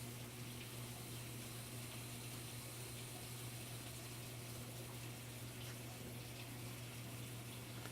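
Cold water rushes steadily into a washing machine during a diagnostic fill test, a continuous gushing hiss over a low electrical hum, unbroken throughout.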